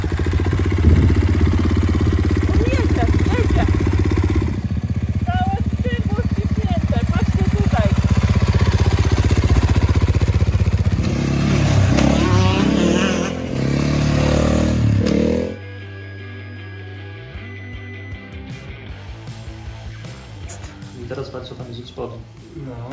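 A KTM 450 EXC-F dirt bike engine with a burnt clutch runs loudly and steadily up close, then cuts off to quieter clattering sounds, with someone talking throughout.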